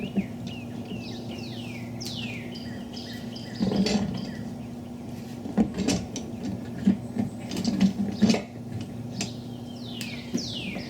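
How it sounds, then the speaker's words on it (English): Channel lock pliers tightening a pipe fitting on a water pump setup outdoors, giving a few short metallic ratcheting clicks and scrapes in bursts, with birds chirping steadily in the background and a low hum throughout. "Get your channel locks and then tighten this up real good."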